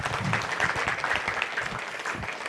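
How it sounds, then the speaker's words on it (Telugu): An audience claps for a speaker at a talk session, dense steady applause throughout, fairly close and full. "ఒకసారి సార్కి గట్టిగా చప్పట్లు కొడదాం"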